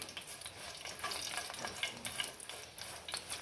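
Dried Byadgi chillies fry in hot oil with a bright, continuous crackling sizzle, close and fairly loud, steady throughout with small pops and no voices.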